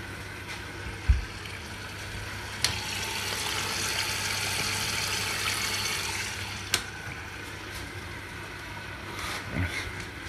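Hotpoint NSWR843C washing machine on its first rinse cycle, a steady wash of water sloshing and filling at moderate level, broken by a few dull clunks.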